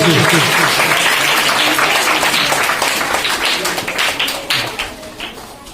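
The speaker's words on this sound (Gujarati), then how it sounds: "આપણે એમને તાળીઓના ગડગડાટથી વધાવતા રહીશું" A crowd at a village primary school's girls' education and enrollment festival applauds as children enter, a thick, loud wash of clapping that thins toward the end into scattered individual claps, with some voices underneath.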